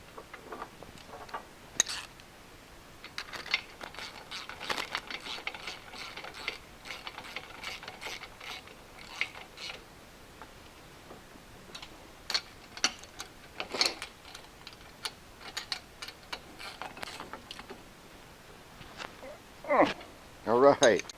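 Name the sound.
ratchet wrench tightening flange nuts on limb saw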